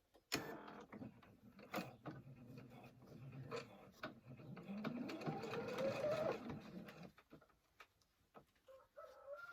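A sewing machine stitches a seam along the inside edge of the presser foot with the needle centred while sewing a reversible peasant bodice; its motor whir runs steadily for several seconds, rising in pitch, then stops. No one speaks.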